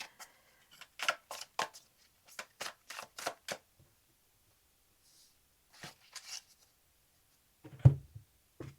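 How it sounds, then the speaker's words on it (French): Tarot cards are shuffled by hand for a four-card spread, giving a series of crisp riffling and tapping bursts in close succession, then a pause and a few softer shuffles ending in a light thump, quiet and close. "Je vais réaliser un tirage à 4 cartes."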